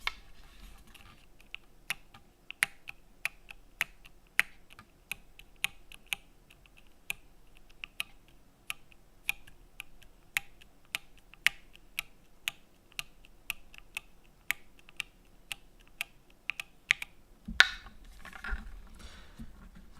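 Rapid, crisp keystrokes on a magnetic-switch rapid trigger keyboard click steadily and close up for about seventeen seconds, then give way to a brief rustle of handling noise at the end.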